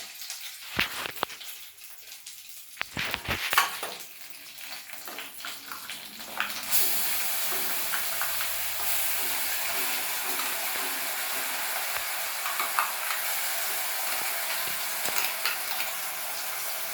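Ground paste for fresh field bean (mochai) masala drops into a hot pan with a few clattering knocks, then fries with a loud, steady, close sizzle.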